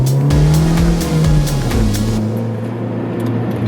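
A 2008 Honda Fit with a 109-horsepower engine heard from inside while driving, a steady engine drone with low exhaust rumble shifting pitch, then settling into a quieter cruise with faint clicks.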